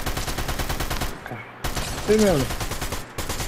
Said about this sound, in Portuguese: Opa, tá tendo um tiro.